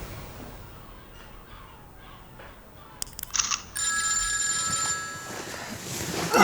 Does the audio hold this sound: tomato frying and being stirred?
no